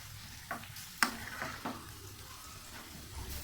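A spoon scrapes and stirs spices for masoor dal in a hot pan, with a steady low sizzle and a few sharp clinks against the metal.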